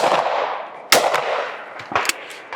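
Blaser F16 shotgun firing at clay targets outdoors, two loud sharp shots about a second apart, each with a decaying echo, followed by faint clatter.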